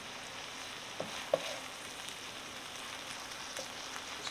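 Stuffed potatoes frying in a pan with parsley give a steady, soft sizzle with a couple of faint clicks near the start, heard alone without talk.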